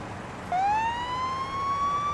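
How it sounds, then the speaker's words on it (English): A police car siren in the driving game Police Simulator switches on abruptly and holds a steady, rising wail, loud and close over low engine rumble, with no talking. "Gonna turn on our siren so we can get by these red lights."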